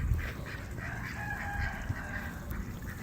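Ducks on a homestead honk and quack faintly in the distance over a steady low background hum.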